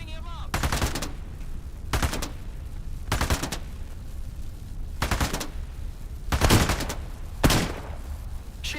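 Gunfire in the video game Into the Radius 2 comes in six separate loud bursts of rapid shots, each lasting about a second, with short pauses between them over low ambient rumble.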